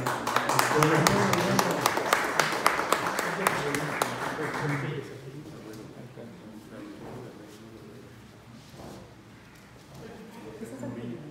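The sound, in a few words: ovation, applause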